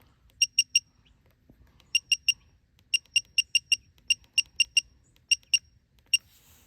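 Digital torque wrench set to 100 newton meters, tightening a motor mount spacer bolt on a Volkswagen Tiguan and giving sharp, high electronic beeps in quick bursts of two to five, repeated several times with short pauses between.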